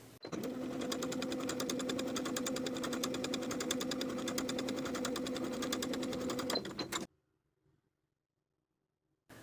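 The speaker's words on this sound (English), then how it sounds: "Sew along the curve with a 1/4 inch seam allowance." A sewing machine runs continuously, stay stitching a curved neckline at a quarter-inch seam allowance, a close, even rapid whir for about seven seconds before stopping into near silence.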